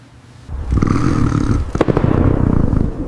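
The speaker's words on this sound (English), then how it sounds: "You think that fireworks are a confusing, unnecessary war in the night sky" Loud fireworks boom and crackle in a sustained burst, with a sharp bang partway through and rumbling crackles continuing after it.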